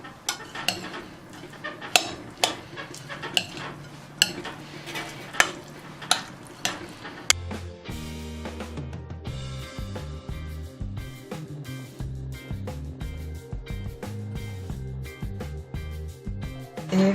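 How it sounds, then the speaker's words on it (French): Russian Olivier salad being mixed with mayonnaise in a bowl, first a run of sharp clinks from a spoon, then a steady wet, squelching churn of stirring that carries on to the end. "On mélange le tout."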